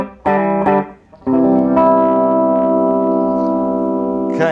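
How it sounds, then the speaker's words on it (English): An electric guitar through a Carvin Vintage amp, with two short plucked notes and then a long sustained chord carrying a slight gritty edge of distortion. "you're starting to get that little bit of a grit there on the tone"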